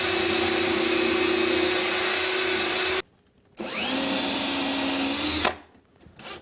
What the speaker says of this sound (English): drill and countersink for screws to hold them in place